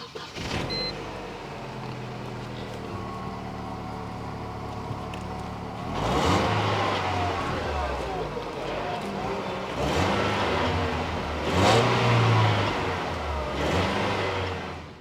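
Car of about 2000 vintage, with an engine management light on, started and revved: a steady mid-range engine drone rising in two or three surges of revving, close by, with little talk.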